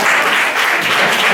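Sustained applause for Sandra from an audience at a Thinking Tools education talk, dense and steady throughout with no voices over it.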